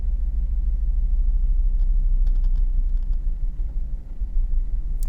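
A Tesla Semi truck hauling a long trailer rolls slowly into a parking spot, giving a steady, close, low rumble with faint ticks and no talking.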